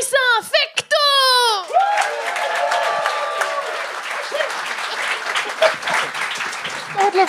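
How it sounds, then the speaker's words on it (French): A studio crowd bursts into applause and cheering for a comedian at a comedy show, with loud shouted whoops at the start, then sustained clapping that settles and carries on under scattered voices. "Faites un tonnerre d'applaudissements pour Vincent Fecto!"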